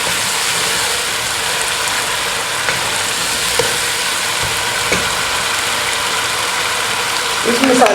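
Beef karahi masala with crunchy fried onions frying loudly in a pan, a dense continuous sizzle with occasional light scrapes of a spatula and a rougher stirring burst at the very end.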